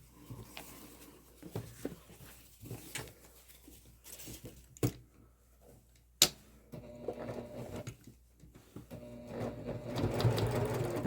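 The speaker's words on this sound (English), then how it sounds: "I'm going to back stitch there" A sewing machine back stitching a messenger bag strap makes soft intermittent runs and taps, with a few sharp clicks and a louder, steadier run at the end.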